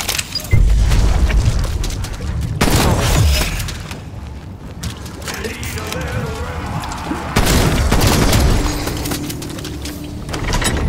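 A C4 charge detonates in Black Ops Cold War zombies gameplay, with heavy booming blasts and crashes amid continuous game noise and gunfire, loud and dense throughout.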